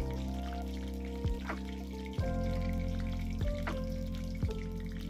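Garlic paste fries in a pan with curry leaves, making a constant close sizzle broken by a few sharp clinks of a spoon against the metal.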